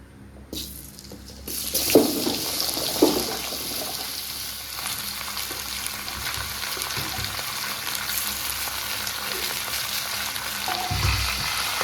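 Five mixed vegetables tipped into hot oil for a vegetarian mixed-vegetable curry, with dried red chilli and salt. A loud, steady sizzle of frying begins after a brief clatter and continues close and even to the end.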